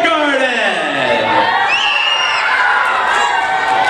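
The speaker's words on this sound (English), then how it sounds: "A round of" School audience in a lower school assembly cheering and applauding loudly, a dense sustained wash of children's shouts and whoops throughout.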